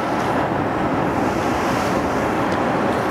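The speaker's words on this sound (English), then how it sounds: "Hear those waves crashing in the background." Big ocean waves crash on rocks below a cliff on a sunny day, a steady, loud roar of surf mixed with wind buffeting the microphone, with no one talking.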